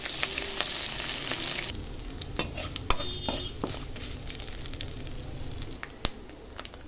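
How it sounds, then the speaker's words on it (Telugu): Tempering spices frying in hot oil in a pan give off a steady, faint sizzle and crackle, with a few light clinks of utensils and no talking. "కొంచెం ఆయిల్ వేసి అది వేడెక్కాక పోపు దినుసులు వేసుకుందాం."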